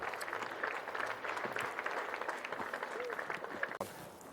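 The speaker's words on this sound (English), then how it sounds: "let's give both these teams a round of applause" Crowd applause for two polo teams after a match at a polo club, faint, distant scattered clapping with a voice speaking over it.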